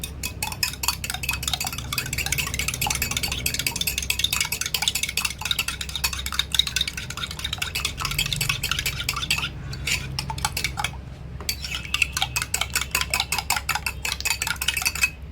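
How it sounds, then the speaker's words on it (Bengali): Eggs whisked in a bowl for a chicken cheese roll recipe: a steady, rapid clatter of utensil against the bowl, close and fairly loud, running throughout with brief pauses and no talk. "ডিমগুলো ফেটিয়ে নিচ্ছি।"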